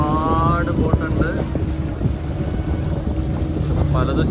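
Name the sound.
boat ride in Goa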